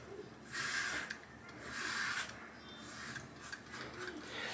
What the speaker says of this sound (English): you do need to use a reasonably light touch with the Leaf razor